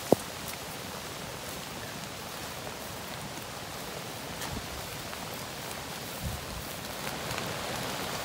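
Steady rain falls outdoors near water while fishing hooks are being set, a dense even hiss with no breaks and no voices.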